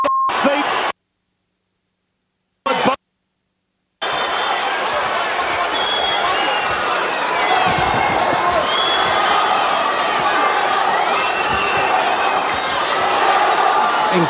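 Roaring crowd at a world title boxing match in Sydney, a loud continuous wash of cheering and noise after a few abrupt dropouts at the start, with a commentator talking over it.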